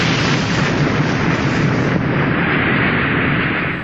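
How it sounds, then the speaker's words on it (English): A deafening blast from the detonation of the world's most powerful H-bomb, heard as one sustained, very loud roaring boom that rumbles on without a break and fades only slightly at the end. "8 minutes later came a deafening bang."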